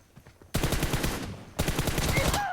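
Pistol gunfire in a mobile shooting game: two loud bursts of rapid, closely spaced shots, each lasting about a second, following a quiet moment, with faint background sounds at the end.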